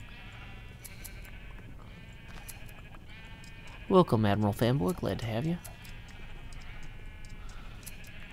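Sheep bleat in the Minecraft video game during a Hermitcraft live stream, a short loud burst of several quick bleats in the middle, with someone speaking before and after over light background game sounds.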